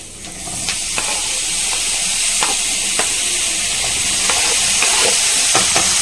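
Onions and tomatoes frying in a pan for a rajma gravy, a steady loud sizzle and hiss with occasional stirring clinks and scrapes.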